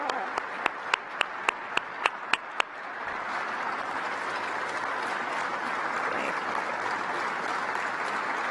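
An audience at a National Space Council meeting applauds the Guardians, a few loud single claps near the start swelling into sustained, even applause from a large crowd that holds steady to the end.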